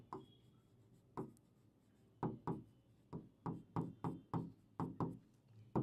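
Handwriting a vector math formula during a math-solving lesson: roughly a dozen close, crisp scratchy strokes come in short bursts, speeding up toward the end, with no talk.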